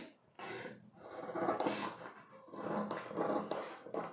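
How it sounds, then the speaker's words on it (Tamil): Scissors snip and rasp through blouse fabric for a princess-cut back-open blouse, a steady close scraping and crunching texture that rises and falls in several strokes, with no voices. "இப்போ இதை கட் பண்ணிக்கலாம் பிரின்சஸ் கட்டிங்க்கு"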